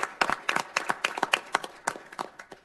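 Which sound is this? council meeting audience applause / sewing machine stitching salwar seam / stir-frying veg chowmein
council meeting audience applause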